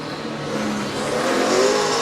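NASCAR Camping World trucks race two and three wide on the Eldora dirt track, a loud, continuous engine roar with rising revs from a pack of trucks, no voices over it.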